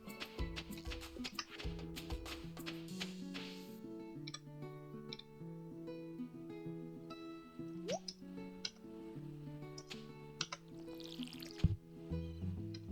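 Watering strawberry and squash crops in the video game Stardew Valley, with soft repeated dripping and splashing effects and small ticks over a steady background music track.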